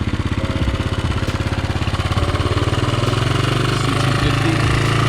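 A motorcycle engine idles while warming up, a loud, close, even chugging pulse that holds steady throughout, with no one talking.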